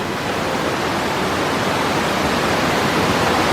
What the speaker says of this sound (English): the very top of the multiple cascades that make up the waterfalls of the Cloister at Three Creeks Valley.